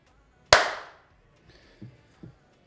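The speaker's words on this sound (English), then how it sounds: "I just got to give a bit of a clap here" A single sharp clap cracks out loudly and fades quickly, followed by a few faint soft knocks in an otherwise quiet space.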